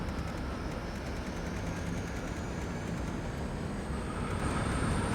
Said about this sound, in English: That train should now slowly reverse.